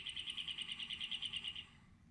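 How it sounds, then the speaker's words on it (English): Galápagos cactus finch song: a rapid series of about fifteen bright, evenly spaced chirps in a steady trill for roughly a second and a half, clear and fairly close, then fading to quiet background. "This is what a cactus finch sounds like."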